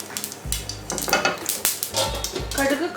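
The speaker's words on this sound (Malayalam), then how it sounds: "അപ്പോൾ കടുക് പൊട്ടി തുടങ്ങിയിട്ടുണ്ട്" Mustard seeds crackle and pop in hot oil in a pan while kuzhi paniyaram is being made, a dense close sizzle with sharp irregular bursts and occasional clinks of a utensil against the pan.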